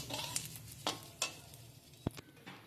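Whole cumin, a bay leaf and a dried chili sizzle in hot mustard-style fish-frying oil, giving a low steady crackle with a few sharp pops and spatters; no one speaks.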